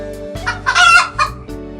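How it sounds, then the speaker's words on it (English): A chicken makes a brief burst of close clucking, with a rooster's crow rising in the middle, all within a couple of seconds. "The chicken is a domesticated jungle fowl species."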